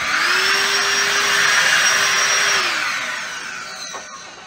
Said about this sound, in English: I really like using the vacuum like this with this wide brush on the end and this tiny little battery on the other end.